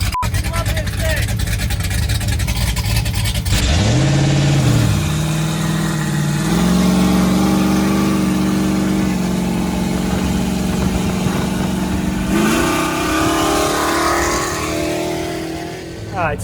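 A Chevrolet squarebody truck with rebuilt crossover steering drives at about 30 mph, its engine droning loud and steady with rising and falling pitch as it accelerates and eases off, with no talk over it.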